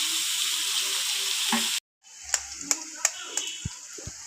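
Cauliflower fries with ginger garlic paste in a hot pan, with a steady loud sizzle. It cuts out briefly, then resumes with sharp stirring clicks and taps over continued frying.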